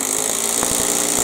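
A Bosch GDR 18V-EC brushless impact driver drives a screw in, giving a short, loud burst of rapid hammering clatter over a motor whine, close to the listener.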